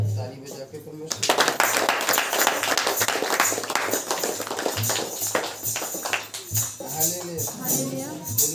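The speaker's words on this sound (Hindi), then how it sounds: "हालेलुया, यीशु मसीह की ताली बजा के परमेश्वर" A church congregation at a Saturday prayer meeting claps hands in a fast, steady rhythm, loud and close, while a preacher's voice rings out before and after the clapping.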